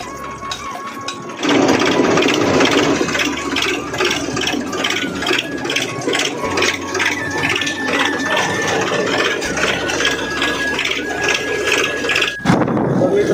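A tractor running with a farm harrow attached in a cotton field, a loud continuous engine drone with rattling and clattering metal that starts abruptly after a quiet opening and cuts sharply near the end.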